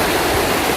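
Clear water of the Sapang Baliwag stream rushes and splashes steadily, a loud, close, unbroken wash of flowing sound with no voices.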